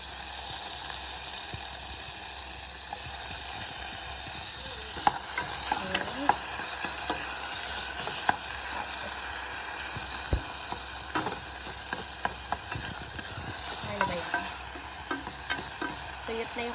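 Tomatoes sauté in a pan with garlic and pork, giving a steady close sizzle and frying hiss with scattered scraping and stirring knocks throughout.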